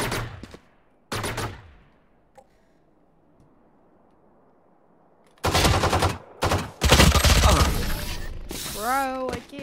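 Rapid gunfire from the video game Valorant, loud sprayed bursts of automatic weapon fire coming in several separate clusters, with quiet stretches and a short rising tonal effect near the end.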